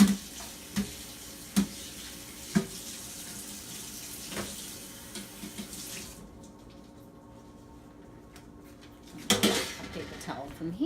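A pan being washed in a sink under a running tap, with several clattering knocks of metal against the basin over flowing water, then a quieter pause before a final burst of splashing and clanking.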